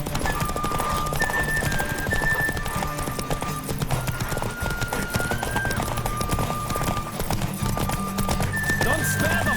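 Steady clip-clop of galloping horse hooves in The Witcher III with occasional whinnies, over a bright looping music track; a voice calls out briefly.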